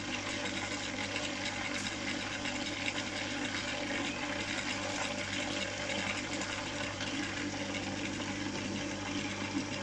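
Water escapes from a poorly sealed joint on a Güde GFS 401S flat suction pump as it runs, making a steady, continuous rushing and hissing wash of noise at close range with no voices.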